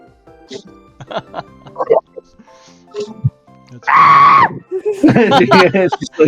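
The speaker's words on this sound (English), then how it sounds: "The horror scream." A loud, sustained horror-style scream bursts out for about a second, voiced by a person during a tabletop Dungeons & Dragons Pokémon game session, surrounded by lively conversation and followed by animated, exaggerated talking.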